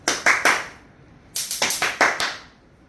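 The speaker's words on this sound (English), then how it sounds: "it's clapping" Two bursts of sharp hand claps during a CPR responsiveness check, three quick claps followed after a pause by six more in a steady rhythm, loud and close with no talking over them.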